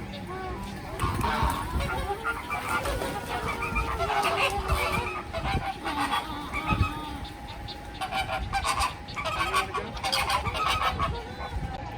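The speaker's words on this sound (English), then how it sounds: "And over here we have some flamingos." A flock of flamingos at a zoo bird exhibit gives repeated nasal honks and goose-like calls, overlapping and fairly close, with people talking quietly underneath.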